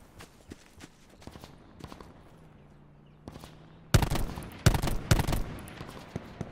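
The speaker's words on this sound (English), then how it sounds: "There's a lot of shotguns. I can hear." Shotgun gunfire in the video game Call of Duty Black Ops 4 Blackout: scattered faint distant shots at first, then several loud close blasts in quick succession near the end.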